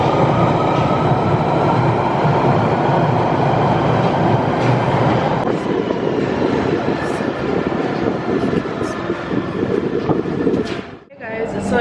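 A London Underground train rumbles and rattles along in a noisy carriage near Oxford Circus, with a loud, continuous roar and clatter that swells and then drops away sharply near the end.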